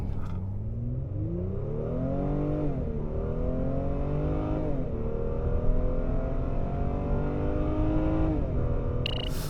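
A powerful 2024 Honda Pilot SUV engine revs up hard and loud from a standstill, pitch climbing steadily and dropping briefly at each gear change before climbing again, with no voices.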